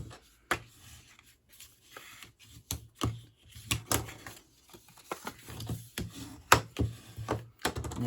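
Stampin' Up! card stock being folded and creased by hand for a center popout panel card, a string of sharp, close papery snaps and rubs at irregular intervals over quiet room tone.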